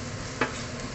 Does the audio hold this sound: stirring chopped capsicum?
yes